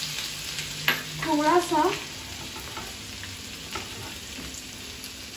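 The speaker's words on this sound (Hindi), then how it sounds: "लहसुन और हरी मिर्च का पेस्ट बना के रखा है, हमने वो डाल दिया इसमें।" Garlic and green chili paste frying in a pan for Rajasthani kadhi, a steady close sizzle throughout, with a brief louder crackling burst early on and a short spoken remark over it.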